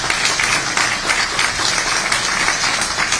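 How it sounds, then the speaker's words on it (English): An audience at a Huntington Beach State of the City event gives Assemblywoman Diane Dixon a round of applause, steady dense clapping throughout. "Let's give her another big round of applause."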